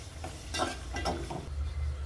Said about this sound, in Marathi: मिक्स करून घ्या घ्यायचं आहे व्यवस्थित